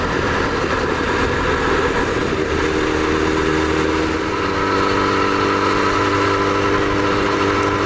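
A 1999 Yamaha R1 with an Italian tune-up roars loud and close while riding on a road in Japan, holding a continuous dense engine drone whose pitch shifts slightly as the revs change.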